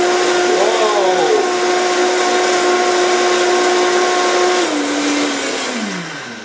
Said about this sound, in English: Bring out the workhorse, the Vitamix.